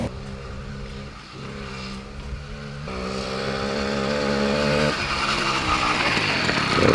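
A budget motorcycle's engine runs after being kick-started, close and loud with a buzzing, harmonic drone that climbs in pitch as the revs rise a couple of times.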